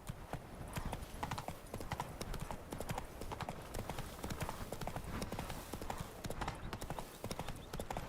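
The horse Roach gallops in The Witcher 3, with rapid rhythmic hoofbeats thudding continuously close by over ambient game sound.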